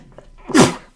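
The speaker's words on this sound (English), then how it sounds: "Give me just a sec. I gotta sneeze." A single loud sneeze from a weather forecaster, a brief inhaled lead-in followed by a sharp explosive burst, close to the microphone.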